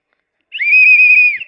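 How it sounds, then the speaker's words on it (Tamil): A single whistle is blown with one sustained, clear, shrill tone lasting about a second, loud and close, starting after a short silence and ending abruptly. "இந்த விசில் வந்து எல்லாத்துக்கும் பயன்படுறது."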